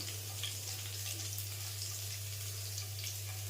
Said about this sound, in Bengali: গ্যাসটা কিন্তু আমি আস্তেই রেখেছি, আস্তে রেখে রসুনটা ভাজতে হবে